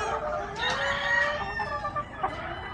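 Roundhead gamefowl pullets in breeding pens, several birds clucking and calling close by in overlapping, uneven bursts over a low background hum.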